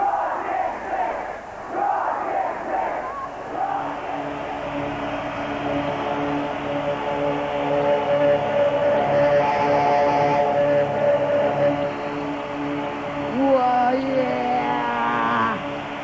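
A huge concert crowd at a show in Red Square, Moscow, roars and cheers in a steady, dense wash of voices, with chanting swells and shouts rising and falling over sixteen seconds.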